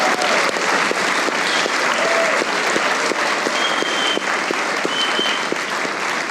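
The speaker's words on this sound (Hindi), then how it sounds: "एक बार आतिफ असलम के लिए तालियां हो जाए" A studio audience at a Pakistani comedy talk show breaks into sustained applause, dense steady clapping that fills the room at close range from start to finish with no talk over it.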